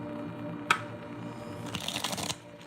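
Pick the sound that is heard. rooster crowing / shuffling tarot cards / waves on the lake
shuffling tarot cards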